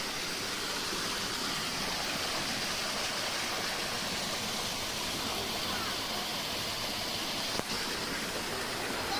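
Crystal-clear spring water flows steadily at an outdoor spring in Bom Jesus dos Perdões, a constant soft rushing wash with one brief sharp click near the end.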